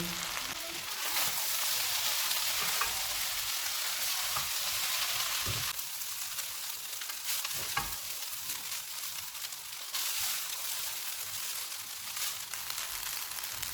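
Boiled salted rice and green onion tops are stirred together in a hot pan, a soft continuous sizzle with scraping spoon strokes and occasional taps, fairly quiet and without voices.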